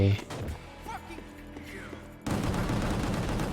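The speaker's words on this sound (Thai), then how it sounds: "ยิงครับยิงครับยิง" Gunfire in the video game Gungrave G.O.R.E breaks out as a loud, dense burst of rapid shots that continues to the end, following a stretch of quieter in-game sounds.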